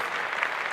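A short burst of dense, even applause from a crowd, steady and moderately loud for under a second.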